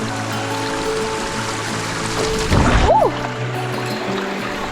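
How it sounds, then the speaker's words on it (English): A Maui hiking-trail stream crossing: water flows continuously over rocks in a steady rushing wash, with a brief louder splash midway. "Such a pretty stream crossing."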